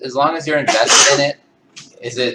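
A single sharp sneeze bursts out in the middle of a conversation between people talking, loud and close, with speech continuing before and after it.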